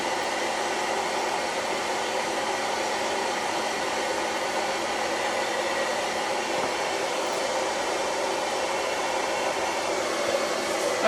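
A hair dryer blows steadily to dry wet paint on a small handmade wooden sign, a constant loud whooshing hum that runs without a break and with no talking.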